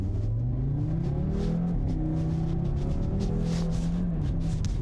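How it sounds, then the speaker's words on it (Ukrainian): An Audi RS3 engine revs and accelerates, its stock exhaust rumbling deep and loud as the pitch climbs and drops through gear changes, close by. "Я відчуваю кожне перемикання і класний бархатний вихлоп, стоковий."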